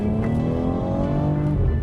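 BMW X3 M40i engine pulling hard under acceleration, a loud, steady harmonic drone that climbs gradually in pitch over about two seconds, with no voices over it.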